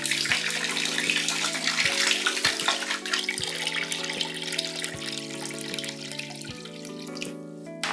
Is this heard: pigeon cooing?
no